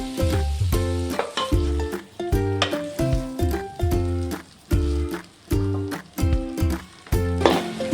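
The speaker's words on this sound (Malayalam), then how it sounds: "ഇനി നമുക്ക് റൈസ് ഇതിലേക്ക് ഇടാം." Cooked rice stir-fried with chicken pieces in a hot pan, loud sizzling in regular rhythmic bursts as the spatula tosses and scrapes, each stroke followed by a brief lull.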